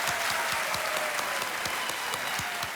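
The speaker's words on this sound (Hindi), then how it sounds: "एक बार तालियां बज जाएं फिर इनके लिए" Studio audience on the KBC quiz show breaks into sustained applause for a young contestant, a full, even roar of many hands clapping that holds steady throughout without voices on top.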